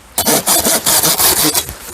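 A hand saw cuts through a garden tree branch in quick, even back-and-forth strokes, loud and close, about seven rasping passes in a row.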